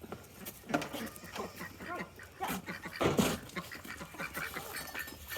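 A puppy makes small yips and whimpers close by, mixed with people talking and some duck-like quacking in the background.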